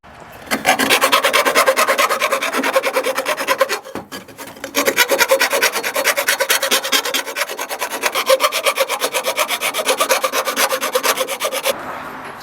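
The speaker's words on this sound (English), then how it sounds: "we are just going to start filing all the piping, clean all the burrs up before it goes back on" Hand file rasping across metal car intercooler piping to clean off burrs, in steady rhythmic strokes that run close and loud with a brief pause partway through.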